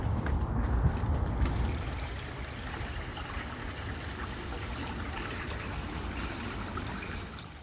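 A small creek in a Florida botanical garden trickles and flows steadily, a soft continuous outdoor water wash at low level, with a slightly stronger low rumble at the start and no voices.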